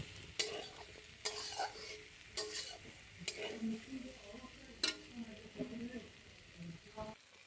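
Potatoes and vegetables frying in a pan while being stirred, with repeated scraping strokes of a spoon over a soft steady sizzle, close by and moderately quiet.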